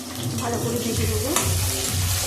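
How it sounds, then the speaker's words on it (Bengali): Small diced potato pieces frying in a pan, a dense continuous sizzle with stirring scrapes, close and steady throughout. "আলুটা ভেজে নিলাম"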